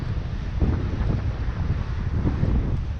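Steady wind roaring past a Lagoon 50 sailing catamaran sailing upwind on an Atlantic crossing under cloudy skies, a continuous low rumbling buffet with gusty surges and faint water wash throughout.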